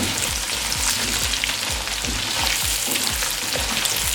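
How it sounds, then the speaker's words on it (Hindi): Diced potatoes fry with roasted spices in a pan for aloo palak, a steady close sizzle with faint rhythmic scraping as they are stirred, no voices. "अब इसमें आलू डाल देंगे। इसे 2-3 मिनट के लिए फ्राई कर लेंगे।"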